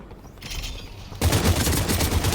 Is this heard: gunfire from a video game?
yes